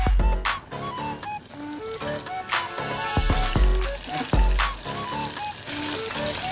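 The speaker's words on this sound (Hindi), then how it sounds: "एक बैच जो शुरू में हमने डाला था वो फ्राई हो रहा है" A batch of crispy chicken fries in hot oil with a steady bubbling sizzle, heard beneath prominent background music.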